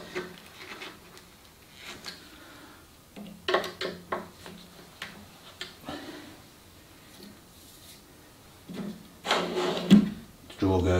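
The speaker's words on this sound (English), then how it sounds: "Drawer goes in, drawer goes out." A wooden drawer on a handmade baby cot slides in and out several times, with soft rubbing and knocking wood sounds, faint and close in a workshop.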